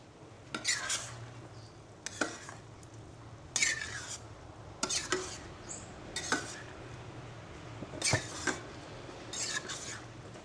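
Spoon or spatula scraping and clinking against a pan while stirring thickened mapo tofu sauce after a starch slurry goes in, in sharp intermittent strokes about every second or two over a low steady stovetop hum.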